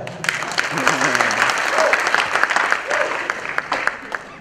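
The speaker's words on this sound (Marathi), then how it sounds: "जोरदार टाळ्या." Loud, sustained audience applause with dense clapping filling the whole stretch, while a voice speaks underneath.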